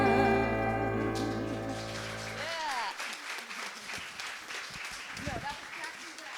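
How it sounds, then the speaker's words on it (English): Congregation at a Sunday church service bursting into applause as a song's final sustained chord fades, scattered clapping building up with voices mixed in. "we can clap again, right?"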